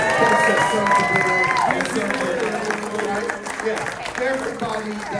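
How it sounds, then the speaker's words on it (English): An audience at a beer-versus-wine tasting competition claps and cheers, the applause mixed with crowd chatter and voices throughout. "Can we get a round of applause for"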